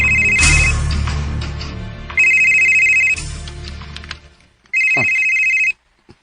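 Phone ringtone for an incoming call, a bright electronic melody sounding in three loud bursts separated by pauses, with some background noise and clatter between them.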